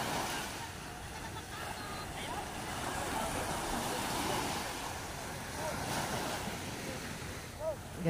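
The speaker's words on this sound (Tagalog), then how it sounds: "Ang ganda ng dagat guys." Sea waves wash around a small boat offshore, a constant rushing surge with gusts of wind buffeting the microphone and voices talking faintly over it.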